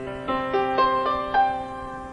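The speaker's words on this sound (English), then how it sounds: "The master controller sounds like a piano." A synthesizer acting as MIDI master controller, set to a piano sound, plays a short run of four or five clear, separate notes with soft decays, close and alone.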